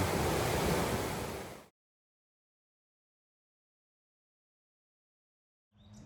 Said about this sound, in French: D'habitude, c'est juste un petit ruisseau. Mais avec les pluies de ces 2 derniers jours, voilà ce que ça donne.